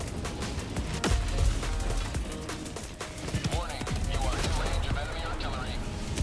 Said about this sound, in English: Oh my god, that's enemy artillery.